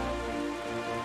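Rain falling in The Legend of Zelda: Wind Waker HD, a brief steady wash of patter over soft game music tones, with no voices.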